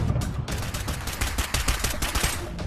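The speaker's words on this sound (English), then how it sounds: "Machine gun." Rapid machine gun fire from a VR zombie shooter game on Quest 3, a dense, continuous burst of sharp cracks that runs the whole stretch, loud and close.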